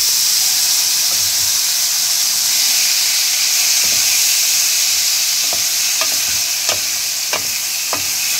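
Steady loud sizzle of tomatoes added to a hot pan, a constant frying hiss with soft stirring taps in the later seconds and no voices.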